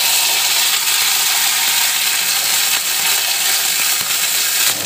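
Curry leaves frying in hot mustard oil in a kadai with mustard seeds, a loud, steady, dense crackling sizzle that holds without a break, with no talk.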